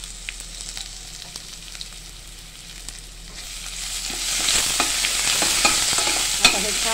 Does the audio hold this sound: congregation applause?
no